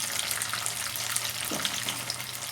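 Cooked tofu is stirred in a hot frying pan for a sizzling beef and tofu dish: a bright, steady sizzle with a soft scrape of the stirring partway through.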